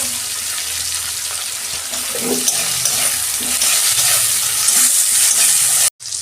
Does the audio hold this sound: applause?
no